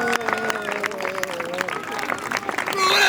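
An audience at a witches' festival contest applauds after a winner is announced, bursts of clapping and crowd noise under a loud announcer voice, swelling toward the end.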